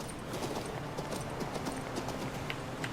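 A horse's hooves clip-clop at a steady trotting rhythm in the video game King's Bounty 2, a soft, even pattern of repeated hoof strikes over faint game ambience.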